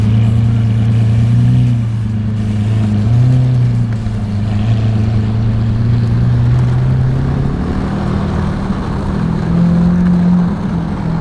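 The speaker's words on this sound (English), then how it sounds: "Is he pulling the Aventador SV?" A Lamborghini Aventador SV drives past loudly with a steady, deep engine drone and shifting tone as it pulls a skateboarder along, the engine filling the whole stretch with no talk.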